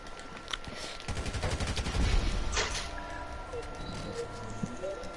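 AK-47 rifle fire in GTA V, a burst of rapid shots with busy game sounds around it and talk over the top.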